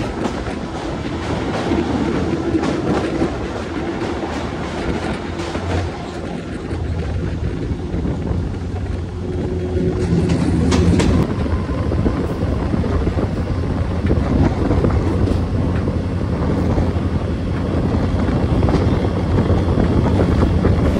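A passenger train on the Agartala to Udaipur line runs steadily with a continuous rumble and rhythmic clickety-clack of wheels on rail joints, plus wind noise, growing slightly louder partway through, with no voices.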